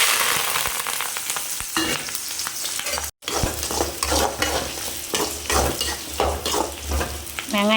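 Onions sizzling in hot oil after mustard seeds have popped, a steady crackling fry with stirring scrapes in the pan, briefly cut by a short gap before continuing.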